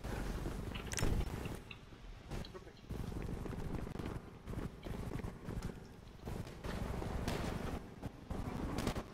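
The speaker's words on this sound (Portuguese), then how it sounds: "tiro na praça. Muito tiro." Rapid bursts of gunfire in GTA 5 crackle repeatedly over a dense, noisy background, with sharp volleys recurring throughout and voices murmuring underneath.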